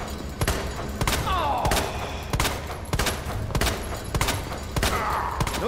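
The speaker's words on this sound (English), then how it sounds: "While I'm doing this, I can be shooting him." Gunfire aimed at an enemy in Resident Evil 2: sharp, spaced single shots roughly every half second to second, fairly close and loud, with a few lighter thuds and game sounds between them.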